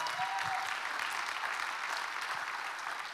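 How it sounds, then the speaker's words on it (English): A church congregation claps together during a sermon, a steady wash of many hands heard at moderate distance and fairly quiet, holding evenly for a few seconds. "You can clap a bit louder for that."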